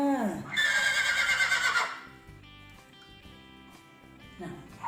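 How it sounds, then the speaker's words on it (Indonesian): A horse lets out one long, loud, shaky whinny that falls away after about two seconds, followed by quieter low rumbling and a faint stir near the end. "kuda."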